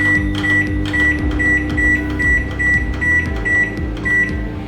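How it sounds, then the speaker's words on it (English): Microwave oven running to steam water inside it for cleaning, a steady close hum with a high tonal whine and regular faint clicking pulses throughout, no talk. "give it 5 minutes to let it steam and loosen the grime that is inside this microwave"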